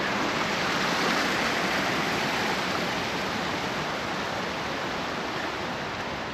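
A river runs beside a hiking trail in Little Egypt, Tennessee, giving a steady, dense broadband rush of flowing water, close and continuous, with no voices.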